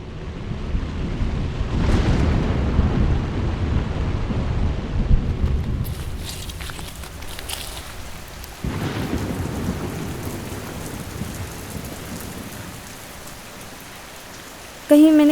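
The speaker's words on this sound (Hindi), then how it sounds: "ये बारिश को भी अभी होना था।" Heavy rain pours steadily while deep thunder rumbles and rolls twice, loud and close, with a sharp change in the downpour midway, as in a horror-story soundscape.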